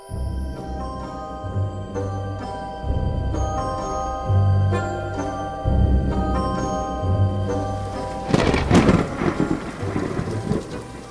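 Heavy rain pours down with rumbling thunder as a storm effect: a dense steady patter under low rolls of thunder, building to a loud crackling burst near the end.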